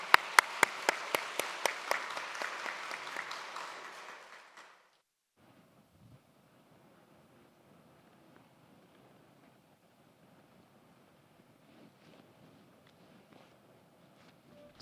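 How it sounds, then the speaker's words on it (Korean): A church congregation gives a short round of applause during Sunday worship, crisp close claps that build and then taper off over a few seconds, followed by a quiet room. "박수 한번 쳐주세요"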